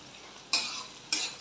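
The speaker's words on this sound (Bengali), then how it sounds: "পেঁয়াজটা ভাজা হয়ে এসছে" Onions being stirred in a frying pan with capsicum for a Bengali duck egg curry, two distinct scraping stir strokes over a soft sizzle, close and alone.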